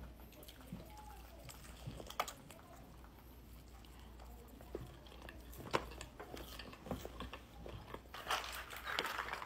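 Close, crunchy chewing of a breaded Wendy's chicken patty with marinara sauce, irregular crisp bites and mastication that grow louder toward the end.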